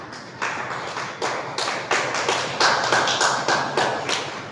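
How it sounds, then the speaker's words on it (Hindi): Hands clapping at a camp gathering in a Buddhist vihara, in separate bursts that are close and moderately loud, more like scattered taps than a full ovation. "इनके लिए जोरदार तालियां।"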